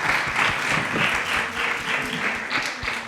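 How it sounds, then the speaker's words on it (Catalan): An audience applauds at a book presentation, a dense, sustained wash of clapping from a room full of people at moderate loudness. "Un aplaudiment pel meu pare"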